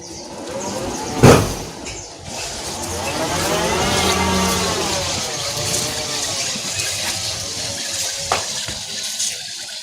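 A homemade electric VW Beetle powered by a forklift motor climbs a steep ramp out of a garage, giving a rising and falling electric whine over tire and road rush, with a couple of sharp knocks.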